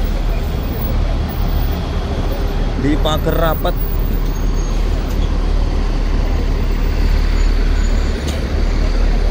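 Buses at the hajj pilgrims' bus terminal in Makkah, a loud continuous rumble of idling and moving heavy engines with traffic noise, while a person speaks briefly over it.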